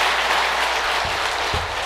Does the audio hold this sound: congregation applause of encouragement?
yes